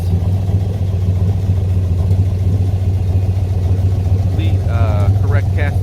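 A numbers-matching 1966 Corvette roadster with the L72 427 V8 idles steadily and loud throughout, its solid lifters ticking over a constant low rumble, with a voice briefly speaking near the end.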